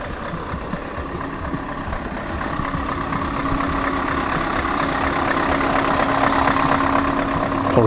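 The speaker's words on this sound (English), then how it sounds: "Apologies for the clatter of the diesel lorry behind." A diesel lorry engine clatters away close behind at a classic car show, a steady mid-range rumble with a rattling knock that holds level and swells slightly louder toward the end, with no talk over it.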